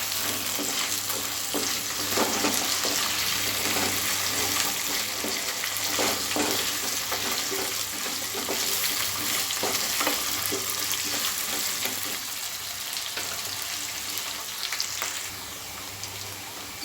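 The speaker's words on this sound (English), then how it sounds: "I am frying this potato with the onion first for 2-3 minutes" Potatoes and onion frying together in a pan for a pumpkin, peas and potato curry, a steady soft sizzle with occasional stirring scrapes, close and moderately quiet, no talking.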